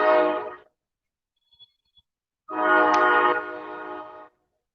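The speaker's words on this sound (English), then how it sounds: "The train is making some noise." A train horn near the James River sounds in two loud, sustained blasts separated by a short gap with faint clicks, the second blast longer than the first.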